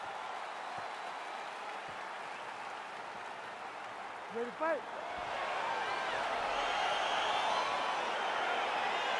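A virtual arena crowd in EA Sports UFC 4 roars as a fight gets underway, a steady wash of cheering that swells louder in the second half, with an announcer's voice heard over it.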